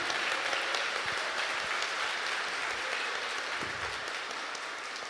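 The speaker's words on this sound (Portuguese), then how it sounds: "Pode dar uma salva de palmas." A church congregation claps during a homily at a Corpus Christi Mass, quiet but sustained applause from a crowd, fading slightly toward the end.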